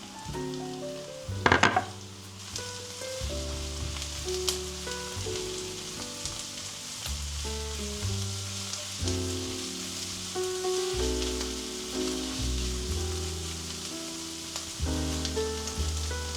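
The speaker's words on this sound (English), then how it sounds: "I roast the peppers with the onions." Peppers and onions roast in a hot pan with a steady, fairly soft sizzle that runs throughout, partly masked by background music.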